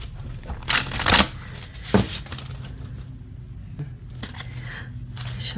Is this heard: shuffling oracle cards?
yes